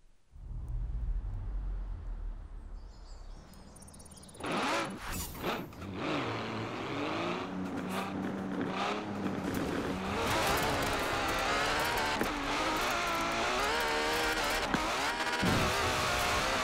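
Hoonigan car engine in Forza Horizon 4, quiet at first, then loud racing revs, roaring acceleration and gear changes with brief cuts and bangs, sustained close for about twelve seconds.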